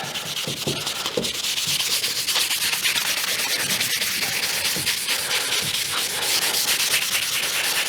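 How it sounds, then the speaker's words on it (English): Steady, close-up scratchy rubbing of a very fine grit sanding pad worked back and forth over rusty metal hand tools, continuous with no voices. "Take our sanding pad,"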